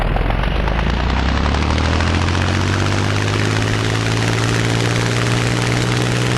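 A Cessna 172 engine at full throttle in the Flight Unlimited flight game, a loud, steady propeller drone with a deep rising tone, sustained and close throughout with no talking.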